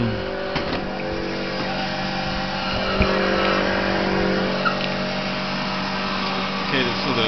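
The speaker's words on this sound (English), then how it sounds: "Okay, so the fan that's spinning away. Radiator one spinning." Radiator cooling fans on a Dodge TEVan electric vehicle whir steadily at close range, a constant mechanical hum with a few faint clicks over it.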